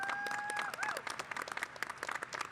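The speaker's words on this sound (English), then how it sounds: "Please join me in giving them a round of applause." Audience applause at a university commencement ceremony, a broad sustained clapping from a large crowd in a big hall, with a faint tone sliding through near the start.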